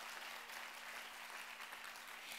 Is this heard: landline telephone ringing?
no